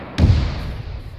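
Rocket launcher fired at a target in Arma 3, a single sharp thump with a low booming body that decays into a faint tail, heard alone.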